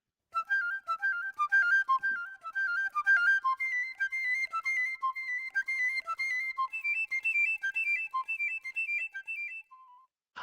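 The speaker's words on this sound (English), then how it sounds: "That is the sound of a piccolo woodwind instrument there." A piccolo plays a quick, high, bright melody of many short detached notes, moving in steady runs for about ten seconds, heard clearly and alone.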